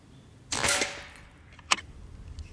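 A Crosman ICON PCP air rifle fires a single pellet shot: a sharp close crack with a brief hiss trailing off, followed about a second later by a fainter snap of impact or mechanism.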